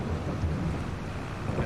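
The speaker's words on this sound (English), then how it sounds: "Rain, stop, please." Steady rain with rolling thunder in the Farming Simulator 22 video game, a dense continuous roar that fills the short stretch evenly and plays alone with no voices.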